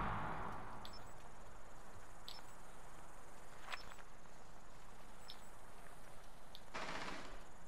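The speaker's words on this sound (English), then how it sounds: "You can literally shoot the camera." In Rainbow Six Siege, gunshots are fired at a camera as a handful of sharp, separate cracks spaced a second or so apart over a steady low background hum, fairly faint and distant.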